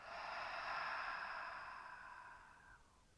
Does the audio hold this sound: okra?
no